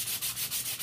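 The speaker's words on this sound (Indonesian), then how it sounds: "Kita amplas dulu, kira-kira sudah halus apa belum" Hand sanding of a small wooden part for a knock-down lark birdcage: quick, even back-and-forth rasps of sandpaper on wood, about five close strokes in under a second, with no voices.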